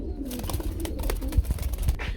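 Damascene pigeons coo at a pigeon farm, soft low throaty coos close by amid rustling and faint cage noise, brief and without talking.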